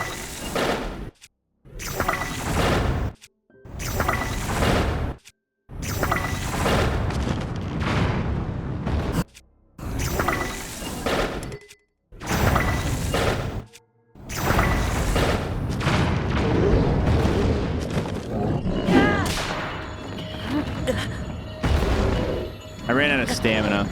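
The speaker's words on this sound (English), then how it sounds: "All right, let's carpet bomb it." Carpet bombing in Zelda: Tears of the Kingdom lands as a string of booming explosions in separate bursts with short silent gaps between them, then gives way to a denser mix of blasts, whooshes and game effects.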